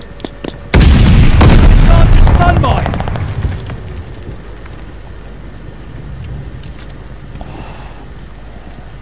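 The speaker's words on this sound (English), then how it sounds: "Throwing satchel charge." Satchel charge explosion in Battlefield 1, with a sudden loud blast that rumbles and slowly decays over several seconds, followed by quieter ambient battlefield noise.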